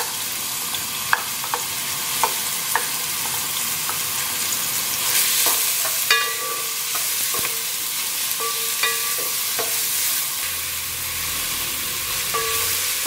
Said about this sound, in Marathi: आता कांदो न्हू आमी मिडियम फ्लेमीचेर बरो हे करूया ताका सॉटे करूया फोंड मारया